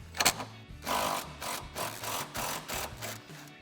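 Impact wrench removing a subframe mount bolt on a 2024-2026 Mustang GT, fitted with a 21mm swivel socket: a series of short, rattling hammering bursts in a steady rhythm, close and fairly loud, with no talk.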